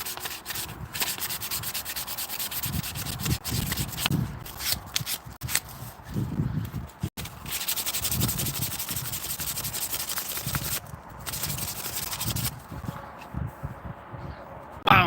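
Hand sanding of a wood piece, a repeated rhythmic rasping scrub in strokes, close and fairly quiet, with brief pauses between passes and no talking.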